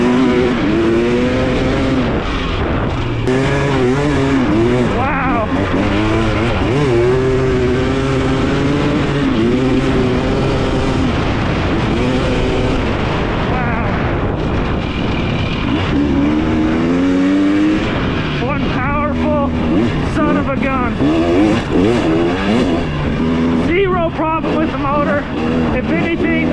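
A 2023 Husqvarna TX300 two-stroke dirt bike engine revs hard and continuously while being ridden, its pitch rising and falling with the throttle, loud and close throughout, with a rider talking over it.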